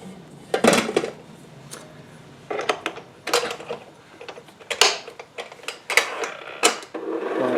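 A stand mixer beats homemade royal icing with a low, steady motor hum, punctuated by irregular clinks and knocks against the bowl.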